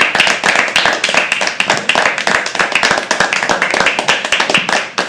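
An open mic poetry audience claps for a performer as she leaves the stage. Loud, dense clapping stays close and continuous throughout, with fast, overlapping hand claps.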